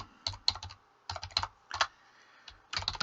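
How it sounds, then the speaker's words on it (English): Someone types on a computer keyboard in short bursts of rapid, close key clicks separated by brief pauses. "So you type in your product name,"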